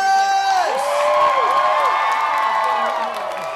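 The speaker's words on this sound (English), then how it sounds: "please give a big round of applause" An audience at the Mad T Party live band show applauds and cheers loudly, with whoops and shouting voices over steady clapping that eases slightly near the end.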